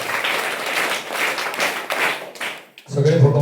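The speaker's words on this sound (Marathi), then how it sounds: "विद्यार्थ्यांनी जोरदार टाळ्या या ठिकाणी वाजवायच्या आहेत." Students clap during a school Independence Day flag-hoisting ceremony, a dense burst of hands that runs about three seconds and then gives way abruptly to a voice.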